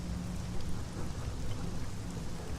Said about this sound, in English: Thunder shakes the trees. Storm's nearing